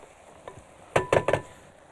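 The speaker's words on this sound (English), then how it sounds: "Just stir that around so that'll help release its juices and mix up with all the other elements" A spoon stirs foraged greens into soup in a pot, making a few quick clattering scrapes and clinks in a short burst after a faint earlier tap, with no voices.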